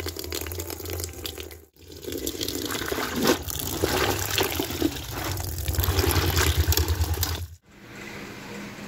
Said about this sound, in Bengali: রাত্রি বাজে 9টার উপরে, এখন কাপড় ধুতে চলে আসি। সকালে ভিজায় রাখছিলাম নির্মা জলে, এখন ধুবো।